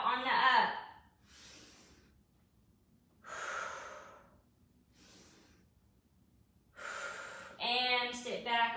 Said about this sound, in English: Breathing in on the down and out on the up.